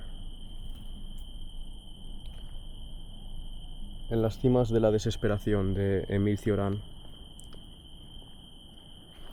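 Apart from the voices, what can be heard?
crickets chirping at dusk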